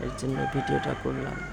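A rooster crows at dawn in Dhaka city, a fairly close, drawn-out call heard beneath someone speaking.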